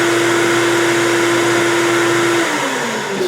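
A shop vacuum with a Dust Deputy cyclone attached, running as a loud steady whine near the machine, its pitch dropping slightly near the end as it begins winding down.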